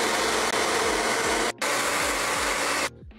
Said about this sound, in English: Now we're gonna do it again with the blow dryer.